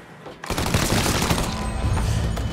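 Heavy gunfire erupts in Mafia III, a sudden dense burst of loud shots that continues as a sustained, roaring fusillade to the end, with no talk over it.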